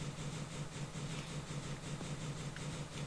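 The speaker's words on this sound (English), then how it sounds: "getting a little bit overwhelmed by immersive railroading sounds" Steady low idling of a locomotive engine in the Minecraft Immersive Railroading mod, a continuous rumble with a faint pulsing beat throughout, no voices.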